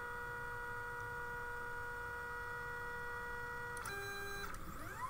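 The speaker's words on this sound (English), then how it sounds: "Now it's time to go through its auto leveling sequence. So you see it basically touch the nozzle down to each individual spot here." A Lulzbot Mini 3D printer runs its auto-leveling sequence, with a steady motor hum throughout, then a brief stepped whir as the head moves and touches the nozzle to each spot, quiet and close.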